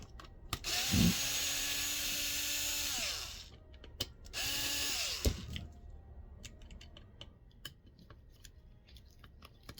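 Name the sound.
unscrewing screws on back of HP 950 printhead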